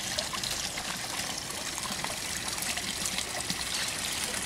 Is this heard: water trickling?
yes